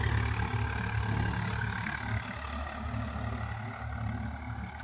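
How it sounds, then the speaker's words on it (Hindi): Swaraj 855 FE tractor engine labouring steadily under heavy load while pulling a laser leveller through thick soil in a farm field, a continuous low, rumbling drone with no talk. "इसलिए ट्रैक्टर लोड खा रहा है इतना।"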